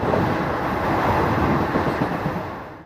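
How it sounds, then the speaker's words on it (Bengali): Haldibari Superfast Express rolling into Malda Town station, heard from on board as a loud continuous rumble with rhythmic clickety-clack of wheels that fades out at the very end. "আমাদের ট্রেন কিন্তু কলকাতা স্টেশন থেকে প্রায় 336 কিলোমিটার পথ অতিক্রম করে অবশেষে এসে পৌঁছালো আমাদের এই যাত্রাপথের পঞ্চম স্টেশন মালদা টাউন স্টেশনে"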